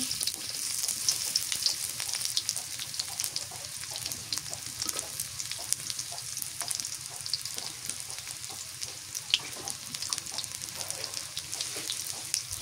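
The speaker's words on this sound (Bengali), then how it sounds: "আগে তেল দিলে ভালো হয় না দিয়ে দে পেঁয়াজ কুচি" Chopped onion sizzles steadily in hot oil, a dense continuous frying hiss with faint stirring scrapes throughout and no talking.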